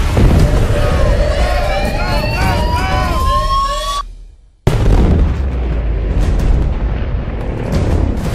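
Explosions in the video game Battlefield: Bad Company 2, loud booming blasts amid game audio, with a brief dropout partway through before heavy rumbling resumes.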